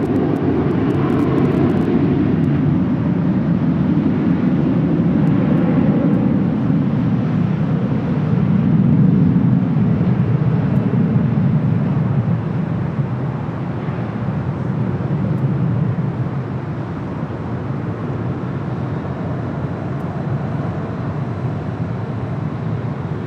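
A United Airlines jet arriving from SFO at LAX, a broad, loud engine roar that swells and then slowly fades over about twenty seconds, with no voices.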